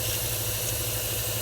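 An air compressor runs steadily in the background of a workshop during valve seal replacement, a constant humming, vibrating drone with an even pulse and no voices over it.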